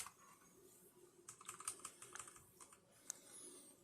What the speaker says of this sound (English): I am now using the keyboard